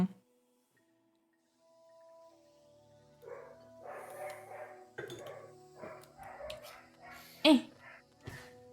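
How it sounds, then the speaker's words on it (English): Dogs bark several times at a distance during indoor gameplay of Hollow Knight, the yips and woofs irregular and moderately loud, mixed with background game sounds and tones. "I hear the dogs again."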